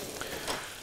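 Sliced leeks fry in a pan, giving a soft, steady sizzle with faint crackle over a fraction of a second and no talking.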